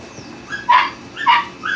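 A dog in training gives short yips and whimpering barks, two bursts close and fairly loud, with no talk.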